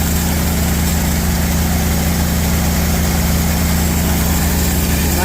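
A heavy engine drives an auger while a truck is loaded, making a loud, steady, close drone with a deep low rumble and broadband mechanical roar that runs unbroken throughout, with no voices.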